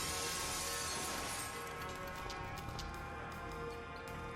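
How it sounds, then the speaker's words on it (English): Glass shatters in a brief crunching burst in the video game Dead Synchronicity, muffled by a seat cover. Scattered faint ticking fragments trail off against a steady background hum. "let's cross our fingers that the seat cover absorbs the noise of the breaking glass"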